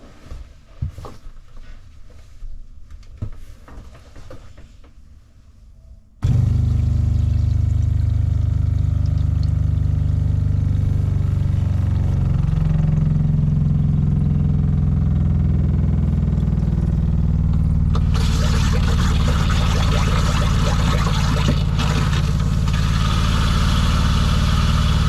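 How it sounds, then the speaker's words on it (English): Water pump of a Rockwood Mini Lite 2205S travel trailer running after dewinterizing, starting abruptly as a loud, steady, close motor hum with rushing water flow that continues without a break and grows brighter near the end. "now I'm gonna turn on the water pump"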